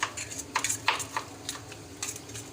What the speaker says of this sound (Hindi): दोनों मसाले हम इसके अंदर शामिल कर देंगे दही के अंदर, और कांटे के साथ हम इसको अच्छे तरीके से मिक्स कर लेंगे।